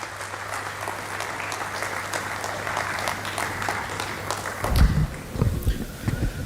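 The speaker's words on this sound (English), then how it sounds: "Let's welcome her with a huge round of applause." An audience at a foundation day celebration applauds to welcome a guest, with steady crowd clapping that fades after about four and a half seconds as muffled sounds and movement follow.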